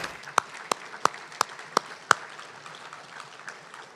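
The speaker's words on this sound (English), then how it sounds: "Big round of applause for all these businesses." A small group at a chamber of commerce luncheon gives a brief round of applause, six sharp, evenly spaced claps standing out over a faint scatter of other hands that trails off.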